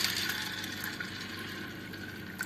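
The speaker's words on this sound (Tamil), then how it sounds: "இந்த அளவுக்கு தண்ணி ஊத்திக்கலாம்." Water pours steadily into a container, a soft, continuous splashing trickle heard close and fairly quiet.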